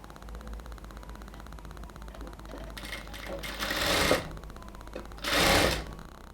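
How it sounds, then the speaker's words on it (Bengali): A sewing machine runs steadily while stitching a pearl designer border onto a kameez sleeve, its motor humming continuously with two louder bursts of faster stitching near the end; someone speaks over it. "এবার আমরা এটাকে আরও একটা বর্ডার দিয়ে সেলাই করব।"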